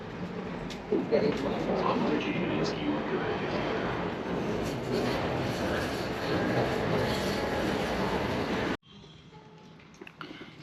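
Budapest metro train pulling into a station, a steady loud rumble of wheels and motors for most of the clip that cuts off abruptly near the end, leaving quieter station ambience with faint talk.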